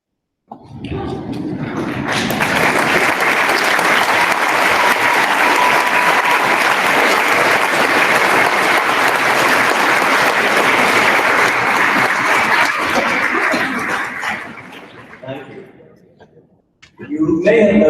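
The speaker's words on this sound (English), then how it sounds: "Please rise and applaud them." A commencement audience rises and applauds graduates' families, a long sustained roar of clapping that swells in, holds full and loud for over ten seconds, then fades out before a voice returns.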